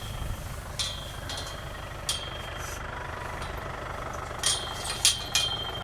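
A tractor engine idles with a low, steady rumble throughout, with a few brief clanks and knocks rising above it.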